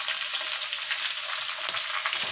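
Chopped onion frying in oil in a kadhai for pav bhaji, a steady bright sizzle crackling evenly throughout at close range.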